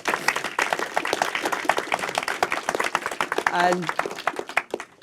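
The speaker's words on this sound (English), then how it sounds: "Big round of applause." Audience applause at a panel talk on role models: dense, steady clapping from a crowd that runs the whole time, with a voice speaking loudly over it.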